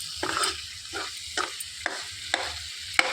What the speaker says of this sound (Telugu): వేసి మొత్తం కలిపేసుకోవాలి.